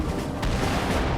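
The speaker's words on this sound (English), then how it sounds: "Confederate cannons fire on Fort Sumter." Confederate cannon fire on Fort Sumter in Charleston Harbor, 1861, heard as a brief, loud, rumbling barrage of booms with a sharp report near the middle and no speech.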